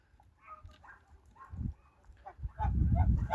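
Geese in a village yard honk in short, uneven bursts close by, building to a louder cluster of calls at the end.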